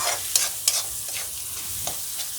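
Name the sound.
tomatoes cooking with masala in a pan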